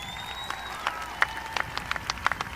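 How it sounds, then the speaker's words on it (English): Audience applause for graduates at a 2018 Crown Point High School graduation ceremony, a soft steady patter of many hands with scattered sharper claps and a faint whistle-like tone drifting over it. "Let's give them a round of applause."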